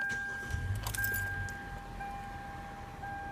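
A Hyundai Elantra engine cranks and catches just after an oil change, a low rumble rising near the start and settling into a steady idle hum with faint high electrical tones over it.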